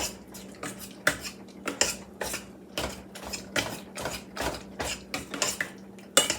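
Cooked beans being mashed in a pot over low heat, rhythmic repeated thuds and metallic scrapes of the masher against the pot, close and steady with a faint background hum.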